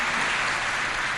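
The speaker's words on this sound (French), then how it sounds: "je demande qu'on applaudisse très chaleureusement aussi" Warm applause from an audience at an official launch ceremony, a brief, steady, dense burst of clapping with no voices.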